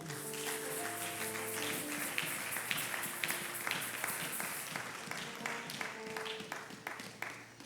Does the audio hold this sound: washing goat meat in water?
no